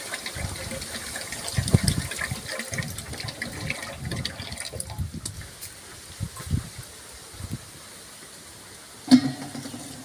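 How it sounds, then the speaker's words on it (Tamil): Pongamia and neem oil pour into a herbal oil mixture in a soft, uneven liquid trickle with faint clunks and a sharper knock near the end, heard close and alone. "அடுத்ததாக புங்க எண்ணெய் ஊற்றியாச்சு, வேப்பெண்ணெய் ஊற்றியாச்சு"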